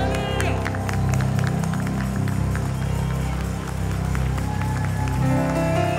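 A church congregation stands and applauds as a welcome, with dense, continuous clapping and some cheering under a steady, loud background hum.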